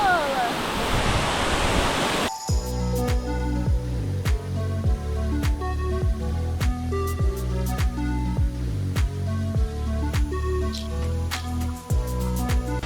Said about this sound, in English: This is definitely top 3 waterfalls in Bali for us.